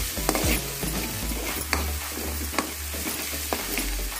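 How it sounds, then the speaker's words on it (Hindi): Onions frying with ginger garlic paste, for an aloo vadi sabji, give a continuous close sizzle with repeated scraping stirs of a spoon against the pan and a low steady hum beneath. "साथ में ही हम अदरक और लहसुन का पेस्ट डाल देंगे। इसको भी भून लेंगे"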